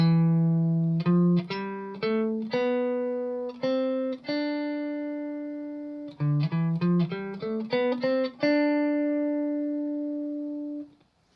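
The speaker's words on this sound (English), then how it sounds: "The Dorian mode is basically the pentatonic minor scale with 2 added notes, a 2 and a 6." A clean electric guitar plays a Dorian mode scale as a solo line, with distinct picked notes rising and falling in two phrases, some quick runs and a final held note ringing out.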